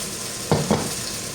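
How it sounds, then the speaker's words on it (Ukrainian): Steady frying sizzle of potato pancakes in a pan, with two short scraping stirs or flips in the middle. "все, смажиться"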